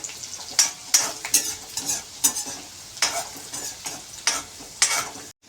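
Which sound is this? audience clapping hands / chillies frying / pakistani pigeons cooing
chillies frying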